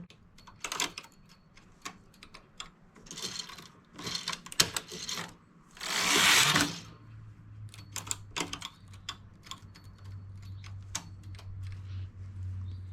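A knitting machine working on a wrapover baby jacket, giving bursts of sharp clacking and rattling, then a long sweeping rush as the carriage crosses, followed by a low steady hum and more scattered clicks.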